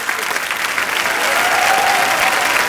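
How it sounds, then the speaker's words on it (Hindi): A studio audience at a Hindi television comedy show breaks into loud, dense applause that swells and holds steady, with a faint voice audible beneath the clapping. "एक बार जोरदार तालियां बच्चा के लिए, जोरदार तालियां सुशील कुमार के लिए"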